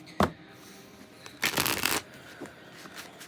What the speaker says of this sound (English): I'm gonna do a big shuffle here.